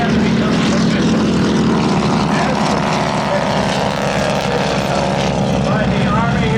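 T-6 Texan propeller trainer aircraft departing at the 2013 Oshkosh airshow, a loud continuous radial engine and propeller drone throughout, with a commentator's voice over the public address running underneath.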